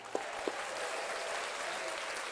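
An audience claps briefly. The sound is dense and steady and fairly quiet, with two sharper claps near the start.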